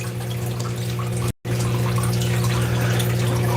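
Water runs steadily while rinsing fine gold flakes in a prospecting pan, a constant close splashing flow broken by one brief cut in the sound.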